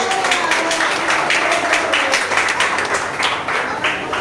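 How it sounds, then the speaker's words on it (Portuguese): Church congregation applauding during a service, a short burst of dense, close clapping that holds steady throughout. "uma salva de palmas"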